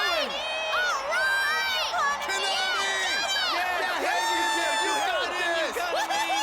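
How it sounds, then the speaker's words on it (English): Crowd cheering and whooping in the rhythm game Persona 4 Dancing All Night, a loud, continuous mass of excited voices with shrill shouts rising and falling throughout. "But they're cheering for Kanami-san."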